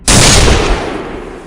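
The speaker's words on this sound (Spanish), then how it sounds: "Otro balazo de Abel terminó con los murmullos de Gurufimao" A single sharp gunshot in a zombie story, a loud crack at the start followed by a long, slowly fading echoing tail, with no other sounds.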